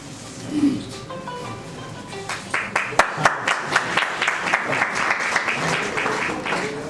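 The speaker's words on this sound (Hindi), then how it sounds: "एक बार जोरदार तालियों के साथ स्वागत कीजिएगा।" At a retirement ceremony, an audience bursts into applause to welcome guests after a brief murmur, with dense, lively clapping building and holding steady, fairly close.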